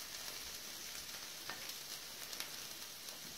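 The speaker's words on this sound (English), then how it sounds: "Those onions are cooking away nicely there" Onions cooking in a pan for a Spanish omelette make a soft, continuous sizzle, fairly faint, with a few light clicks of utensils and no voice.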